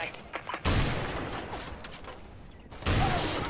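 Gunfire in the video game Special Force 2: two loud, punchy volleys of rapid shots, one early and one near the end, with a busier game bed in between.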